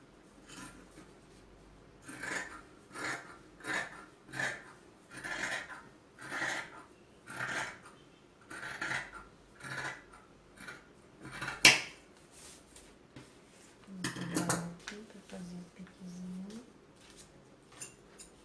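Scissors cut through a paper fabric pattern for a straight skirt, a run of about a dozen evenly spaced, close, crisp snips, followed by a short stretch of talking.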